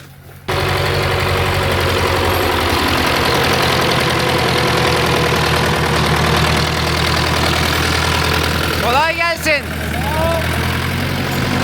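Forestry machine in a snowy Bulgarian forest, its diesel engine idling in a steady loud rumble that runs throughout at close range, with voices talking over it near the end.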